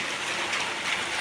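Rain mixed with small pieces of ice, a steady, close hiss of dense patter with no break across the short stretch.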